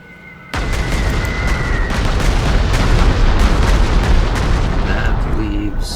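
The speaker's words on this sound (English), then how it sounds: "what we're going to do is bomb him out" Bombing explosions hit a position in Panzer Corps 2, a 1943 Prokhorovka battle: after a quiet lead-in, a sudden loud blast erupts into a long, heavy rumbling roar with scattered booms and pops, plus a few faint tones.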